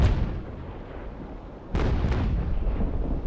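Cannon fire from sailing warships in the Naval Action game during a PvP tournament match, a steady low rumble of broadside booms that rises sharply into heavier, denser blasts partway through.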